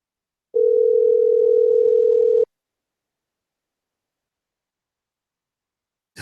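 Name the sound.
telephone line tone while placing a call on air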